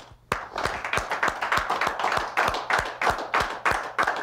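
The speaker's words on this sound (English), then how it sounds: "Let's clap it up." A small group of people claps in a steady, fairly regular rhythm of sharp, close hand claps, roughly two to three per second, with no talking over it.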